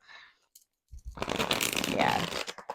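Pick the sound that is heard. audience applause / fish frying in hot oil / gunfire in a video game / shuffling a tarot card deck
shuffling a tarot card deck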